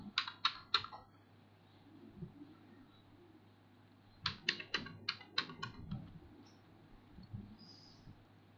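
A computer keyboard being typed on in two quick bursts of crisp, close clicks, a short run at the start and a longer one after a pause, over a quiet room hum.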